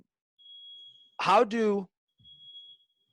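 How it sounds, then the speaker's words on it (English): A fire alarm emits a thin, steady high-pitched tone in the background, faint and continuous, while a person speaks briefly in the foreground. "thought that was a fire alarm for a second in the background."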